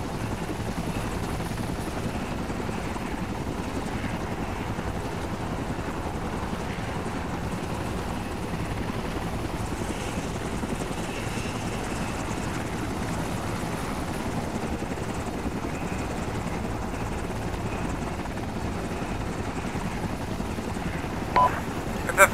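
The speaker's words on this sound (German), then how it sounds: "Wir werden mit dem Helikopter eingeflogen" A helicopter's steady rotor drone in the video game ArmA 2 fills the whole stretch, a constant mechanical thrum with no pauses, with a brief clatter near the end.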